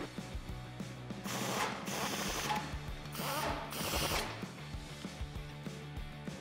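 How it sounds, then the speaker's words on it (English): A ratchet with a 17 mm socket tightens the front brake caliper bolts on a Toyota Tacoma during a rotor and pad replacement, giving several bursts of rapid clicking close to the microphone, separated by brief pauses and small metallic knocks. "Grab your 17 millimeter socket and tighten these down."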